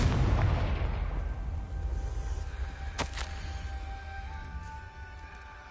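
A Confringo blasting spell explodes in the video game Hogwarts Legacy: a sharp burst sounds around the middle, over a loud low rumbling game soundscape with steady tones, then fades.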